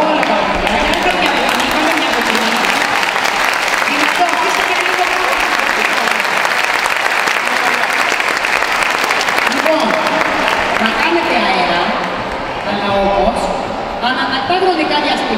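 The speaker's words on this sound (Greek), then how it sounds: "Θέλουμε από εσάς να δώσετε το πιο δυνατό σας χειροκρότημα για όλα τα παιδιά" Crowd of parents giving loud, sustained applause for children at a sports camp closing ceremony, a dense wash of clapping and crowd noise with voices mixed in, easing slightly near the end.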